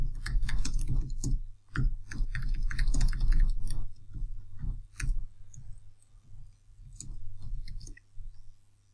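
Keyboard typing as a small C++ Hello World program is entered, with quick irregular key clicks in bursts and short pauses, close by over a low steady hum.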